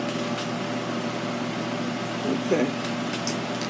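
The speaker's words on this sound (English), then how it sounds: "I know it's loud in here. It's the hood fan." A loud stove range hood fan runs steadily above the cooktop, a constant whooshing drone with a low hum, close and unbroken while a person speaks briefly over it.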